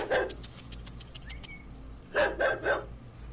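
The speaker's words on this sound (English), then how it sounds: "We have a loose dog that's around the scene." A loose dog barks around a crime scene where a burned body was found, a few sharp barks at the start, then a quick burst of three louder barks toward the end, with faint background noise between.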